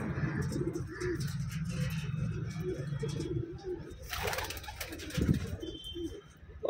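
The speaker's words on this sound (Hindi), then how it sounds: "बहुत ही शानदार, बहुत ही लाजवाब कबूतर हैं आपके लिए टटीरे।" Tatire Madrasi pigeons coo softly and steadily in a low, continuous murmur, with faint chirps from other birds and a brief louder flutter near the end.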